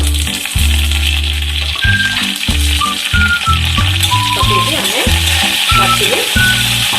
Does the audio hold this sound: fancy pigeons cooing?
no